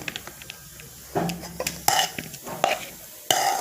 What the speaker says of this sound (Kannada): ಇದನ್ನು ಈಗ ಕಲಿಸೋಣ ನಾವೀಗ ಕಲಿಸ್ತಾ ಇದ್ದೀವಿ